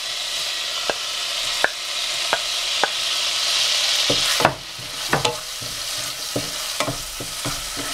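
Ginger and garlic frying in a pan after spluttering seeds give a continuous close sizzle. A spoon scrapes and taps against the pan at a steady pace, and there is no talking.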